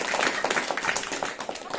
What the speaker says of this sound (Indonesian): tepuk tangan Bu